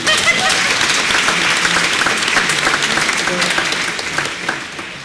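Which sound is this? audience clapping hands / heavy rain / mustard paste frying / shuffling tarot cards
audience clapping hands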